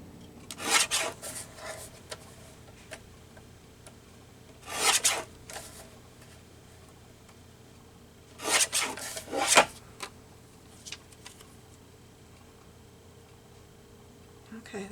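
A paper trimmer slices collage paper for a junk journal: a few short, scratchy rasping strokes, one after another, separated by near-silent pauses.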